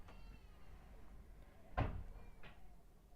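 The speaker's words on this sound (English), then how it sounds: "there's like stuff banging around outside because of the wind" Gates banging open outside in strong wind: a loud single bang followed by a second, softer knock a moment later, heard at some distance over low, steady background noise.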